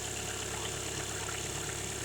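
A 2015 Volkswagen Golf TDI SportWagen diesel engine idles with a steady low rumble and a constant whirring radiator fan noise, close and fairly loud, with no voices.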